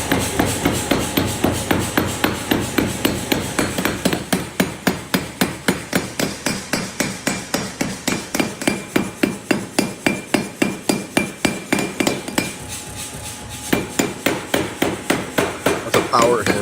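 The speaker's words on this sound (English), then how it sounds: "That's a power hammer." A power hammer forging metal in a workshop pounds in a fast, steady rhythm of sharp, loud blows that go on almost without a break and pause only once, briefly.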